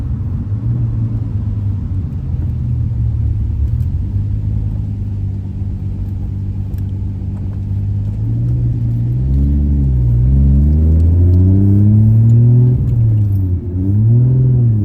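Nissan Skyline R32 on the road, its engine a steady low rumble heard from inside the cabin, rising and falling in pitch as it accelerates and shifts through gears in the latter half, with no talking.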